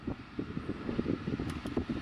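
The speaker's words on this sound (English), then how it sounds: "I have a house aircon in my car." Air conditioning fan in a Toyota JZX100 Chaser blowing steadily inside the cabin, a soft continuous whoosh with faint rustling and brief thumps from handling the controls.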